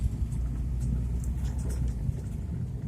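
A car driven by a learner driver on the road gives a steady low engine rumble with road noise, continuous and fairly close, with no voices over it.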